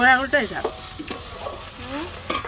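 Chicken masala paste being stirred and fried in a pan, a steady sizzle broken by repeated scraping stirs, close and moderately loud with no voices.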